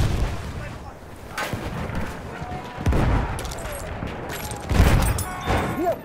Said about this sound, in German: Da! Ein Maschinengewehr!